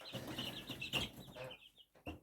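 Faint, high-pitched peeping from young chicks, repeated rapidly in a steady series of short chirps, quiet and close by.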